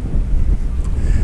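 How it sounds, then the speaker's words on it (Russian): Gusty wind on the Atlantic coast of Argentina buffeting the microphone, a continuous low rumble and roar with no voices. "сегодня ветер"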